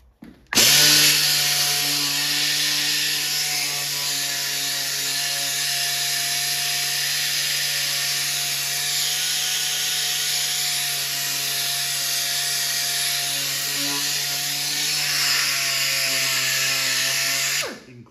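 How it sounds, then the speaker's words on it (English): Power sander stripping paint from a Solar Fox arcade control panel, a loud, close, continuous buzzing whine that starts abruptly, holds steady with a faint pitch shift near the end, then cuts off. "So now let's see if this sander makes a difference here."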